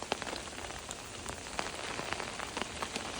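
Rain falls steadily on a surface in New Mexico, a soft continuous patter with scattered sharper drips and taps, fairly faint and even throughout.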